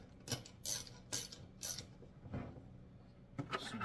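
Ratchet wrench tightening a bolt on a VEVOR car wheel dolly, a series of close, distinct clicking bursts in an irregular rhythm with short pauses between strokes.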